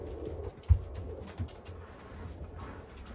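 Pigeons in a loft give soft, low coos, with a brief dull thump and faint rustling over a quiet background and no talk.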